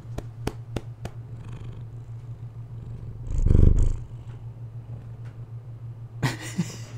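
A cat purrs steadily up close. Several sharp taps from someone drumming on her body come early, and a louder rumbling swell follows midway.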